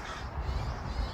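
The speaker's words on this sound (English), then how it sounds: "we have a crow that is taken off with a mouse, and all the other crows are chasing it" Outdoors, crows chase another crow that has caught a mouse. A harsh caw sounds over a steady rush of wind or background noise for about a second.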